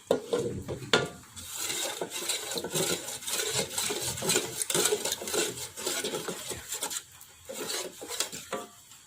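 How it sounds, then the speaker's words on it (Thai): Sugar syrup in a pot is stirred with a utensil, giving a continuous scraping, rubbing rhythm of repeated strokes against the pot, close and fairly loud. "คนให้น้ำตาลละลายแล้วก็ไปเคี่ยวนะคะ"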